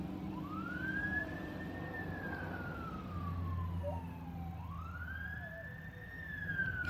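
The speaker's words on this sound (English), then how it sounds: "More sirens." A wailing emergency siren passes at a distance, sweeping up and down in two long rising and falling cycles over a low traffic rumble, moderately faint.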